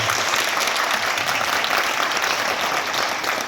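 A packed premiere crowd for the film Çam Yarması claps loudly and continuously throughout, a dense even roar of hands with no voices standing out.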